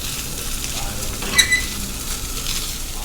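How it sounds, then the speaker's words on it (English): Flaked baked salmon toasting in a sauté pan for crispy salmon: a steady, close sizzle with a brief louder scrape or clink of stirring near the middle. "I'm just making it crispy. Okay, I'm toasting it."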